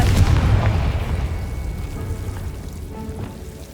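The Confringo fire spell from the Hogwarts Legacy video game goes off with a heavy booming blast, then a long rumbling, crackling decay that slowly fades over several seconds.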